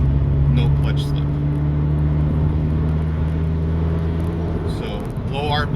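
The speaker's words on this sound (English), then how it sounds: "So it's in 6th gear, 42 miles, and I'm flooring it right now." A 2013 Scion FR-S with a stage 2 IAG turbo pulls hard at full throttle in sixth gear from low speed, giving a steady droning engine tone with wind and road noise while someone talks over it.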